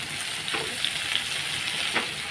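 Potatoes fry in a pan with a steady, even sizzle, broken by a couple of soft stirring scrapes; the frying is close and continuous with no talking over it.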